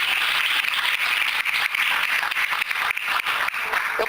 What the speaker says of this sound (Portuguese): Mais forte as palmas, amém, queridos?